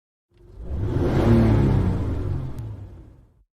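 A loud Lamborghini sports car passes close by in a single rising-and-falling whoosh that swells, holds for a couple of seconds, then fades away.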